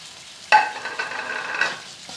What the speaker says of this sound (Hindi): और इनको अच्छी तरह मैं भून लूँगी।